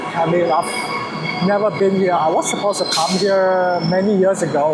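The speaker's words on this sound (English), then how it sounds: "that's my train." Train in Perth screeching as its wheels squeal on the rails, with repeated rising and falling metallic whines and sharp hisses nearby, while someone talks over it.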